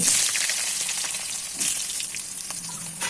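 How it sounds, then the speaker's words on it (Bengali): Potato pieces fry in oil with bay leaf, cumin, salt and turmeric in a karahi, a continuous close sizzle with bursts of crackle and a few stirring scrapes. "নেড়ে চেড়ে আলুর টুকরোগুলো ভাজা ভাজা করে নিচ্ছি"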